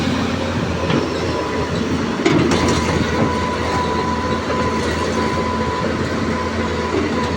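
A Cat 320B excavator moves hard soil onto a road, with a loud, steady engine rumble and a continuous metallic clatter of tracks close by. Occasional heavier knocks sound through, and no one talks.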